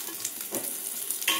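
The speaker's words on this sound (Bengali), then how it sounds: "তো তেলটা গরম হয়ে গেছে, আমি এর মধ্যে দিয়ে দেব পেঁয়াজ কাটা।" Chopped onion drops into hot oil in a wok, giving a brief, close burst of crackling sizzle with stirring scrapes and no talking.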